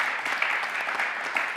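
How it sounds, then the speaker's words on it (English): An audience at an evening live event claps in a continuous, fairly loud round of applause, with dense overlapping hand claps throughout. "can I ask everyone to give you another round of applause?"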